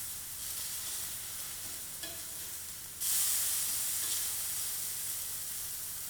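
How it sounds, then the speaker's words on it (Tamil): Fish coated with curry leaves fries in hot oil in a pan over a slow flame, giving a steady close sizzle that swells louder and hissier about halfway through. "மீன் வேகிறது நமக்கு தெரியும்."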